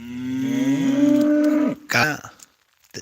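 A cow lets out a long, loud low moo that rises and breaks off, followed by a shorter grunting call and a brief faint noise.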